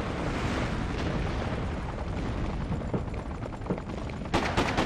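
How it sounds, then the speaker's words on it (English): Bombs exploding in Freedom Fighters, a dense continuous roar of blasts and rumbling with crackling gunfire, ending in a few sharper bursts. "I gotta get away from these bombs."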